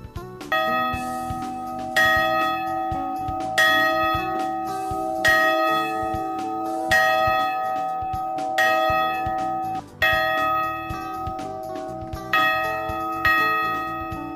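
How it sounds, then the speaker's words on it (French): A chapel bell in a village beneath Mont Blanc tolls with repeated metallic strikes, each ringing out with a long sustained hum before the next, clear and steady with no voices. "la campana suona per tutti quelli di questo qua paese"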